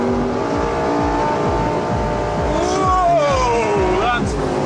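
A Lamborghini Gallardo engine roars loudly from inside the car, pulsing with repeated throttle surges and a rising, sweeping revs tone as it powers through a corner, while someone speaks over it.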